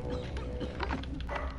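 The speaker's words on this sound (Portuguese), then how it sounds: "meu cachorro tá latindo" A pet dog barks and yips indoors during an online Warzone gaming session, with a few short, muffled barks over a steady background hum.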